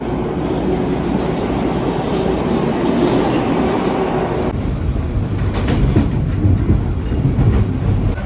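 A metro train rides along with a steady, loud rumble and rattling wheel noise, with a shift in the drone partway through, and no one speaking.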